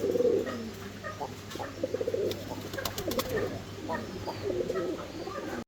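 Fancy exhibition pigeons coo softly in a loft, with repeated low burbling calls and faint chirps in a steady rhythm, heard up close under light background noise.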